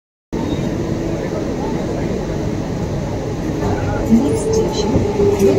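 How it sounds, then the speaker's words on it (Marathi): A Mumbai local train rolls along, its steady loud rumble and rattling wheels filling the carriage, with some brief squeals and noise rising slightly near the end. "मला आता ट्रेनमध्ये बसायला जागा मिळाली।"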